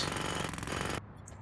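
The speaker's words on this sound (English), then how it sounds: "So if I come on the outside and jackhammer in, I'm hoping it'll fall in towards the building" Rapid jackhammer breaking concrete in the demolition game Demolition Company, a loud dense rattle for about a second that cuts off abruptly into quieter background.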